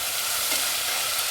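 Curry leaves, mint and soaked fresh peas being stirred in a frying pan for tomato bath, giving a steady close hiss of sizzling oil with soft scraping, no voices.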